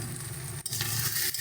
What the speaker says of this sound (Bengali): এই সমস্ত মশলাগুলো খুব ভালো করে কষিয়ে দেবো